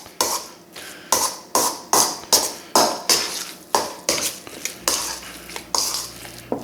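A utensil stirs seasonings into crab cake mixture in a bowl, making a steady rhythm of sharp clinks and scrapes against the bowl, about two per second, close up and without talk.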